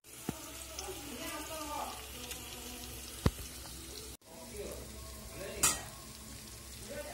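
Onions go into a hot pan with pork for a Northeast Indian pork and colocasia leaf dish, sizzling and frying steadily with stirring scrapes and a few sharp clinks, while a voice talks over the cooking.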